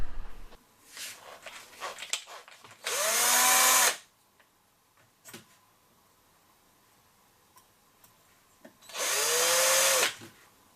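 A cordless electric screwdriver with a 1.5 mm drill bit spins in two loud bursts of about a second each, drilling limescale out of a clogged coffee maker, with quieter handling clicks in between.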